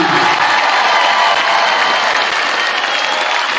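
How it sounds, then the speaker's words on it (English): A graduation crowd at Athens High School applauds the class of 2024, with dense, sustained clapping and some cheering that fills the hall at a steady, loud level throughout. "Let's give everybody a big round of applause, please."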